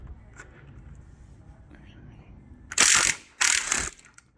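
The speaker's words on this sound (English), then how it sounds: "So in here it's an M8 bolt, just got the impact wrench." Two short loud bursts of an impact wrench unwind an M8 bolt on a Suzuki GSX-S750 motorcycle, following a quieter stretch of low background noise.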